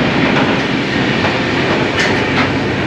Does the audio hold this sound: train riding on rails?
yes